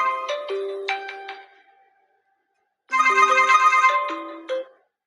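A phone's melodic ringtone plays loud and close, a run of bright electronic notes that cuts off, followed by a short silence and a second, denser burst of the tune; no speech.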